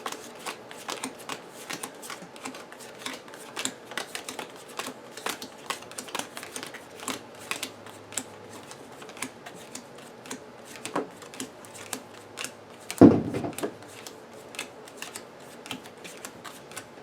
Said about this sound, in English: which I'm going to shuffle